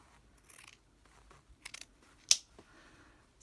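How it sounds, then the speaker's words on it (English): Scissors snip across fabric in a few quiet, close cuts, with one sharp louder snip partway through amid soft handling rustles. "So I think I might just cut it across."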